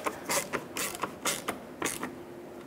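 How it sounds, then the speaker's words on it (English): A T20 screw is driven in with a ratcheting tool during radiator replacement on a 2001-2007 Volvo V70, giving four short, close creaking ratchet bursts in a steady rhythm. "And then put your screw in, little T20."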